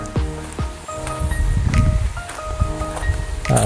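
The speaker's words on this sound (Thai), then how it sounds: "นี่ครับ น้ำตก" Waterfall beside a tent campsite in Chaloem Rattanakosin National Park in Thailand, heard as a steady broadband rush of falling water close by, with some rustling and clatter over it.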